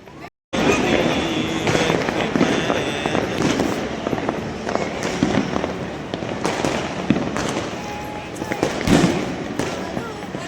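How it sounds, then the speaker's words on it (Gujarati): Rapid crackling bursts of firecrackers popping continuously during the Uttarayan kite festival, dense and loud, with sharper louder bangs standing out now and then. "આ ફટાકડા ફૂટે એની માટે શું કેવું છે"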